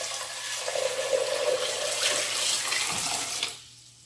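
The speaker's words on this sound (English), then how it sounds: "I'm going to cover everything with water." Water pours steadily into a saucepan of dried elderberries for homemade syrup, a continuous rushing splash that builds slightly before stopping abruptly near the end.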